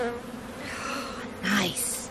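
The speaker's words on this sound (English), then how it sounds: "Lastly, I'm dumping some of the bees left in the nuke box straight into the hive so they can locate the queen as quickly as possible" Honey bees swarming around a hive, a close, dense buzzing drone with individual bees swelling louder as they pass near.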